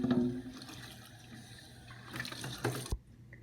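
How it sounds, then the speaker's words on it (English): Running water rinses hair off the removable parts of a Bissell ProHeat Revolution Pet Pro carpet cleaner, a steady close trickle and splash that swells near the end, then cuts off abruptly into silence. "I'm just going to rinse them out to get all the hair off of them"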